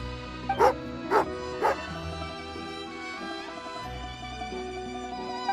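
A dog in the video game Genshin Impact gives three short, loud barks in quick succession over a game music backdrop.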